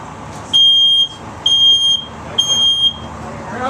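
A household smoke alarm sounds three loud, shrill beeps, each about half a second long, separated by short pauses, with faint room noise in between.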